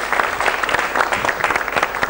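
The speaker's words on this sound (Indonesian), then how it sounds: "Kita berikan aplaus untuk Pak Nur." A crowd at a farmers' gathering in Sawangan, Magelang, gives a speaker steady, dense clapping. It sounds fairly loud and near and holds an even level from start to finish.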